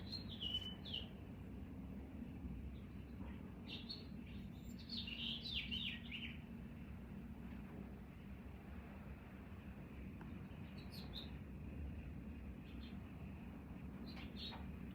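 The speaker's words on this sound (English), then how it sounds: "These poor birds out here." Junco birds chirp outdoors on a cold spring day, giving short, faint, high chirps in small bursts near the start and middle over a low, steady background rumble, with no talking.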